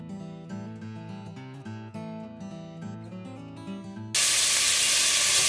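Finely chopped half onion hitting two tablespoons of hot oil in a pressure cooker, a sudden loud bright sizzle bursting in near the end after a stretch of music, close and steady.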